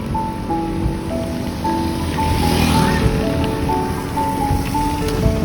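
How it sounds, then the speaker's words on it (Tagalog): Steady rain falling outdoors, a continuous broadband wash that sounds like rain on a surface or nearby water, loud and unbroken through the whole stretch with no talk. "Magpapatila na lang tayo ng ulan"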